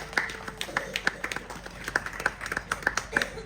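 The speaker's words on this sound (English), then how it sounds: "We'll give him a round of applause on his way out" A small audience at Blackpool Zoo claps for a few seconds, scattered sharp hand claps that stay fairly quiet and uneven.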